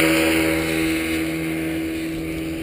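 A paramotor engine runs at full throttle during a training takeoff at an aerodrome, giving a loud, steady droning roar with strong harmonic hum that fades only slightly over a few seconds, with wind noise and no talking.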